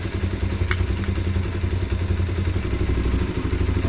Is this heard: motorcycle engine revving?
yes